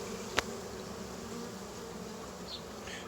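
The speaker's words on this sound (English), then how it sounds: "Nothing wrong with these bees." Steady, dense insect buzzing from many bees close by, a continuous drone with one brief sharp tick near the start.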